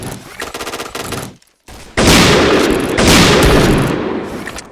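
Rapid automatic gunfire rattles in a shooter video game, a burst, a short silence, then a louder sustained volley close up.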